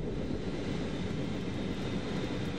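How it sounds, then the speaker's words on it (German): Airplane engine roaring steadily as the aircraft lands in Moscow, a broad continuous drone that stays loud and unbroken throughout, with no voices over it. "Das Flugzeug, das Edward Snowden an Bord haben soll, ist in Moskau gelandet"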